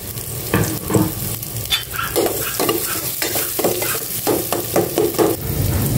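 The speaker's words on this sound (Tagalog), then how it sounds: "Igisa ko na ito." Food sautéed in a pan, with steady sizzling under repeated scraping stir strokes of a spatula, close and fairly loud throughout.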